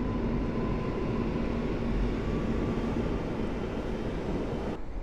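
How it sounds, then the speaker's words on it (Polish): Passenger train from Dęblin to Sochaczew pulling out of Warszawa Powiśle station, a loud, steady broadband rumble of wheels and motors with a faint tonal hum, close by and continuous until an abrupt cut near the end. "Rusza pociąg z Dęblina"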